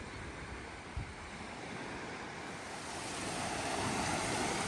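Calm ocean waves wash onto a beach at Sea Rim State Park in a steady, soft surf roar, with light wind noise across the microphone and a gentle swell in loudness toward the end.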